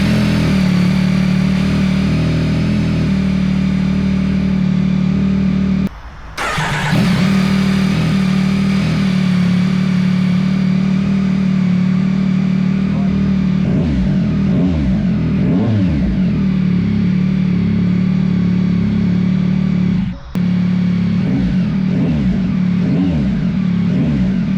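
A motorcycle fitted with a Kelpie Customs exhaust and standard baffle idles loudly and steadily close by, a deep continuous rumble broken by two brief dips, with no talking.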